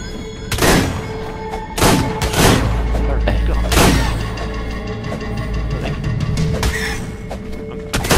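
Gunfire in the video game ARK, a handful of heavy booming shots at irregular intervals over a rumbling game background, with people talking throughout.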